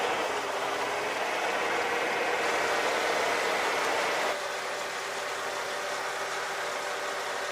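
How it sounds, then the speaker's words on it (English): A steady car engine hum runs continuously, rougher and louder at first, then dropping slightly to a calmer, even idle as it warms up. "now we'll let the idle go back down to idle, and we're going to let the engine warm up"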